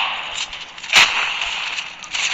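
One sharp, close shotgun blast cracks out in the mobile shooter COD Mobile, standing out against a steady bed of game ambience.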